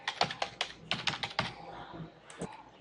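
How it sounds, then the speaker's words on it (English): A password being entered on a computer keyboard: a quick run of about a dozen close key clicks in uneven bursts, fairly quiet, with no talking. "The user, I write the password."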